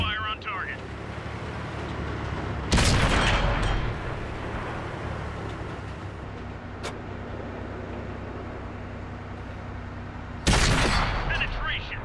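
Two heavy tank cannon shots in World of Tanks, a loud broadband blast near 3 seconds and another near 10.5 seconds, each with a rumbling tail over a steady engine drone; voices talk between the shots.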